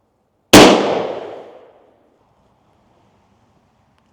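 A single loud shotgun blast from a Stevens 301 .410 turkey shotgun firing a Winchester Double X shell outdoors, a sharp crack with a long decaying tail, followed by quiet.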